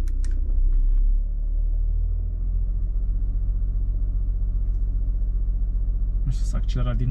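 An Audi A6 C8 sits parked with its engine running as a steady low rumble that swells slightly, with a brief rise near the end, heard from inside the car.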